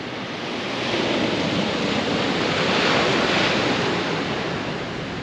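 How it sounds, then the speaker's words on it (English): Ocean surf rolls steadily onto a beach at Tangalle, Sri Lanka, a continuous broad wash of breaking waves that swells slightly in the middle, with some wind buffeting the microphone and no voices. "Look at this beautiful beach we are on."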